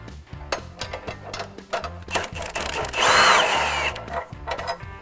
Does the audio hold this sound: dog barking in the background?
no